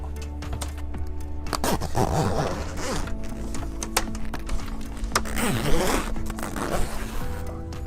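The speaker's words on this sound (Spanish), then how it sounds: "Simplemente corremos la cremallera" The zipper on a boat's sun awning is pulled along the starboard side in a couple of quick, raspy strokes, close and clear amid faint handling noise.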